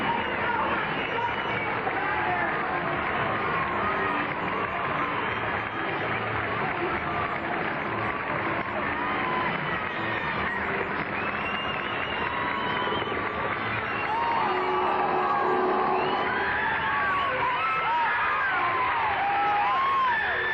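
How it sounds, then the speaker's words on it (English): A large street crowd at the 1986 New York City Marathon cheers Greta's victory, a dense sustained roar of clapping, whoops and shouting that stays loud and continuous throughout. "let's just bask for a moment in the crowd's response to Greta's victory"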